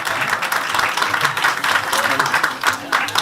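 Devotees at a temple gathering clap for Maharaj Suresh, a dense, fairly loud patter of applause continuing throughout, with voices mixed in among the crowd.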